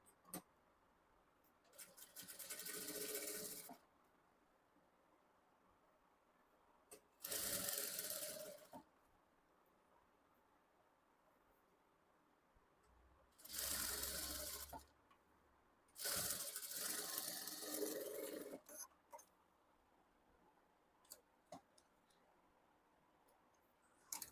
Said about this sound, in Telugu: ఫోల్డ్ చేసి ఈ ఎడ్జ్లో స్టిచ్ వేసుకోవాలి